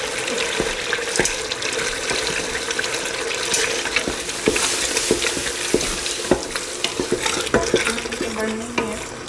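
A biryani mixture is stir-fried in separated cooking oil, with a continuous sizzle under repeated sharp scrapes and clacks of a spoon against the pan, close up and fairly loud, with no talking.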